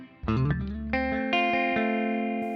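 Distorted electric guitar through a Blackstar St. James EL34/6L6 tube amp plugin with reverb strikes a few notes and chords, each ringing out with a reverberant tail.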